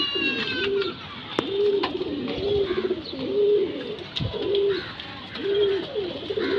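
A Tara pigeon from a breeding pair coos close by in a steady, repeating rhythm of low, rolling calls, with light rustling and a few sharp clicks in between.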